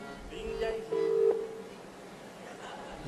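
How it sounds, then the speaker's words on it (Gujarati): A telephone call being placed on stage during a Kaun Banega Crorepati style phone-a-friend segment, with a steady ringback tone heard in two short bursts over faint room noise. "રિંગ જાય છે."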